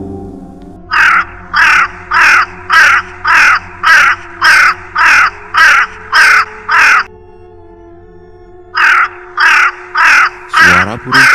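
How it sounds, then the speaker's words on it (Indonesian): A crow caws in a rapid, evenly spaced series, pauses, then resumes with a few more harsh caws over a low steady hum. "Suara burung gagak memecah malam."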